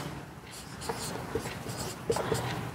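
Pen or pencil writing numbers on paper during a Class 10 maths lesson, a soft continuous scratching with faint taps, close and quiet, with light speech-like sounds in the background.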